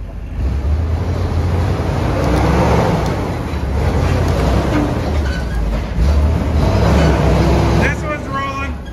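An antique Ford F600 farm truck runs in gear with a loud, steady engine rumble and rattling drivetrain noise throughout, and voices mixed into the din.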